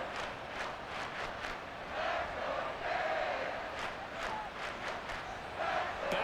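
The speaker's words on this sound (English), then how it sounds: "A big play here as the crowd noise rises." Stadium crowd at an NFL game between the Miami Dolphins and Las Vegas Raiders, a steady distant roar that swells slightly, with scattered whistles and a commentator talking over it.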